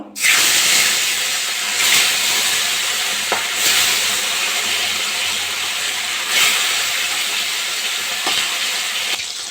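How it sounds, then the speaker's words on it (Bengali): Bata fish frying in hot mustard oil in a kadai, a loud, continuous, close sizzle with a dense hiss that swells slightly at times and never pauses. "আমি এবার সর্ষের তেল দিয়ে দেবো তেলটা গরম হয়ে গেছে মাছগুলো ভেজে নেব"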